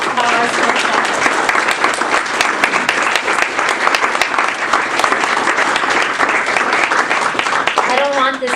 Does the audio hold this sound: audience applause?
yes